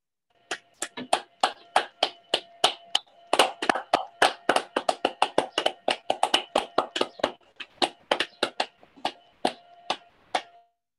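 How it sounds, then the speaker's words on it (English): Online meeting participants clap for Carol after she shares her story at an annual general meeting, a loose scattering of individual hand claps over about ten seconds, close and uneven, with no voices. "Can we unmute and give Carol a round of applause?"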